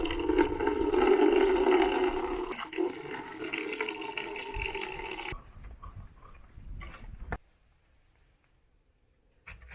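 Water pouring and splashing on a farm while filling the goat and chicken drinkers, a loud rushing flow for about five seconds, then it cuts off, leaving faint knocks and quiet.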